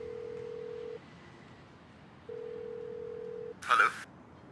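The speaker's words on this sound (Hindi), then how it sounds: "जल्दी से फोन उठाओ सना।" Two long, steady telephone ringing tones separated by a pause, followed by a brief noisy burst.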